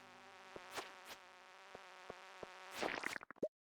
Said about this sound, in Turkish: Bir de bu aralar mı diyeyim. Sinekler mi diyeyim.